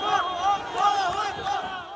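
A large crowd clamors and shouts around a car outside, a dense mass of voices with rhythmic chanting swells, close and loud for the whole stretch.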